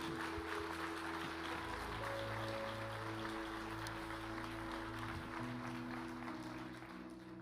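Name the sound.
church congregation applauding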